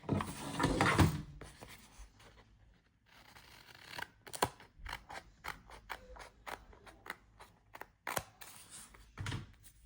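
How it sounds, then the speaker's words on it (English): Scissors snipping through printed paper while trimming homemade Halloween party favor grams, with a burst of paper handling at the start followed by a series of short, crisp, close cuts. "Let me go ahead and bring out my scissors because this thing is tripping."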